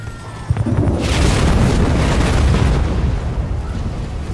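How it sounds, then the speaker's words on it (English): A loud explosive boom in the Halo Wars 2 strategy video game as an enemy destroys a base building, a deep rumbling blast that swells and lingers for several seconds. "The enemy has destroyed one of our buildings."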